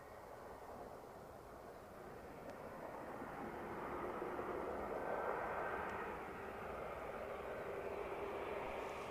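Air Baltic airliner on wet lease for the Lufthansa group at Edinburgh, a faint distant engine drone that swells slightly midway and carries a thin whine.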